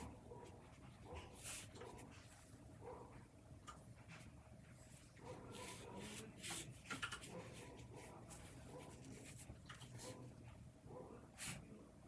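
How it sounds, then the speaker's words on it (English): A dog barks faintly in scattered bursts far off, mixed with soft rubbing and handling noises close by. "I think there's a dog barking."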